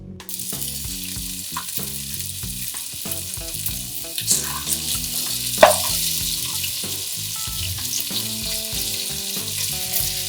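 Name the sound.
chicken frying in hot oil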